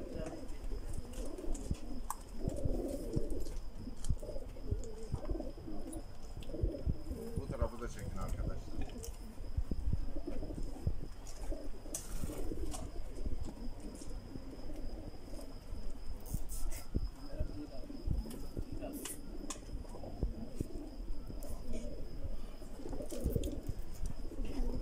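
Racing pigeons in a loft on a long-distance race start day: soft, overlapping coos and wing rustles under people talking outdoors, with a steady chirp of insects behind.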